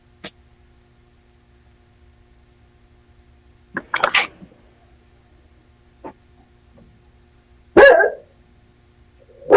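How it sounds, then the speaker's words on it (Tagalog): A dog barks angrily indoors, with sharp isolated barks and short bursts separated by near silence, some loud and close. "Nagalit na aso mo dyan."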